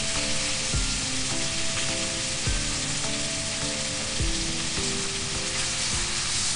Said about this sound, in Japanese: で、炒めていきます。